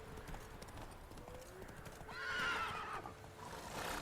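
Hooves clip-clop steadily as a horse gallops in Witcher 3, with a neigh partway through, all fairly close and up front over game ambience, with no talk.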